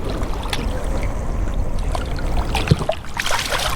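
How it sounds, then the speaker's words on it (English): Water sloshing and splashing near a boat as a released walleye kicks away, with close watery churn and a couple of sharper splashes toward the end, no talking. "And he splashed off and he's gone."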